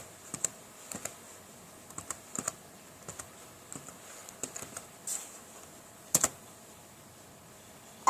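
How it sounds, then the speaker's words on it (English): A password being typed on a computer keyboard during a Linux Mint login, heard as quiet, close, irregular key clicks in short bursts with pauses, ending in a sharper double tap like an enter key, with no voices. "So I'm going to type in my password. Well, actually, my user ID. Then I type in my password."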